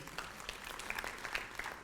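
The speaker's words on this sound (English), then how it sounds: "Let's give a big round of applause for them." Audience applause fills a university research excellence awards ceremony, a steady wash of many hands clapping at moderate distance, fairly soft and continuous for a couple of seconds with no talk over it.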